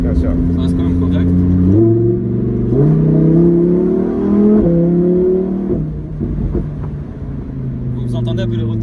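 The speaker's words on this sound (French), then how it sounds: "il n'y a pas besoin d'aller très très vite pour écouter la belle sonorité du V10" A V10 car engine revs while driving on a road, its loud droning note rising in steps through the gears, then dropping back and climbing again, heard close and continuous from inside the car.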